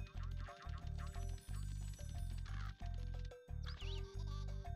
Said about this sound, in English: Thanks for the quack.